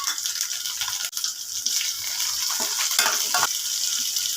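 Tomatoes and chana dal sizzle in a hot pan for a brinjal kuzhambu, a steady hissing fry with occasional stirring scrapes and sputters close by.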